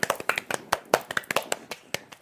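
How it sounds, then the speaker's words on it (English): A few people clap along in a steady, spaced rhythm, the sharp slaps close and fairly loud, with a little voice mixed in. "You should give Joe a round of applause."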